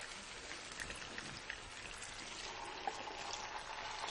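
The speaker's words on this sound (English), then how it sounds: "All I have to do is pour it over the top." Sauce poured over a fish dish, a soft continuous trickling and splattering, faint and close, with no talking.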